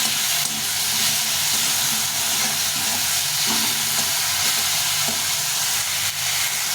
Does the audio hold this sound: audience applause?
no